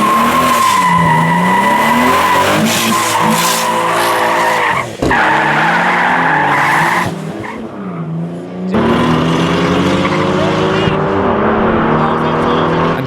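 A BMW 135 and a VW Golf R race with roaring engines rising and falling through gear changes and squealing tires, loud and close, with a voice talking over part of it.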